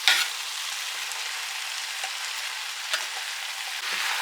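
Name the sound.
tomatoes and peppers frying in a pan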